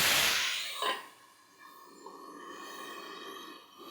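A splash of water hits a hot pan of broccoli with a loud burst of hissing steam that fades into a quieter, sustained sizzle.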